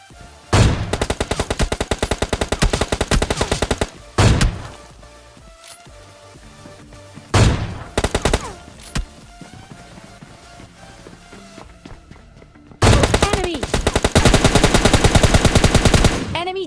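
AWM sniper rifle fire in a duo-versus-squad battle royale game, with loud sharp repeated gunshot bursts in several dense clusters separated by short quiet gaps, close and dominant throughout.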